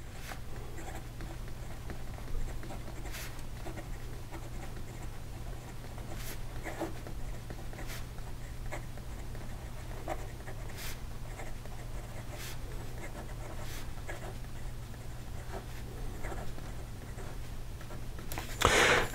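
A Muji fountain pen with a fine nib scratching across paper, a steady faint scritching with short strokes and soft ticks, over a low constant room hum.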